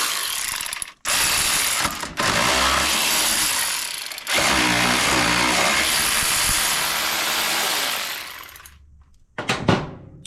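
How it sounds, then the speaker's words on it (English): A ratchet wrench clicks rapidly and loudly while backing out the two bolts of a bad ignition coil on a Craftsman MTD snow blower, in long continuous bursts separated by brief pauses. "What you would do from here is you would go ahead and just take the 2 bolts out."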